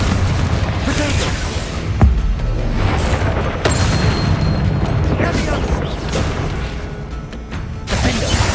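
Spell blasts in Hogwarts Legacy combat boom and burst in loud, rapid succession over a dense, rumbling battle din, with sharp impacts punctuating the continuous noise and a voice shouting throughout.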